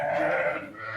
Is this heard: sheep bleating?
yes